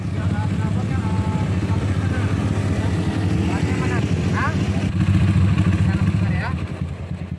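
Motorcycles with loud, noisy aftermarket exhausts during a police traffic raid on a town street in Jembrana, Bali: a continuous, loud engine drone and rumble fills the whole clip, with traffic bustle around it and voices faintly underneath.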